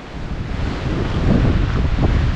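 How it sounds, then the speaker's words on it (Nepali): Strong wind buffets the microphone on a trail in Manang, a loud, continuous rushing gust that swells slightly over a couple of seconds. "हावा चाहिँ आज एकदम बढी छ।"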